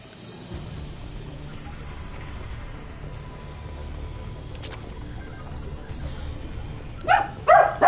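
A dog barks a few times near the end, loud and close, after a long stretch of quiet room noise with faint background hum.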